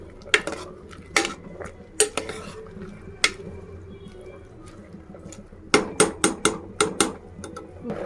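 Spoon stirring chopped tomato and curry leaves into a flat bean and chana dal curry in a metal pot, with sharp repeated clanks and scrapes against the pot, sparse early on then a quick run of knocks near the end.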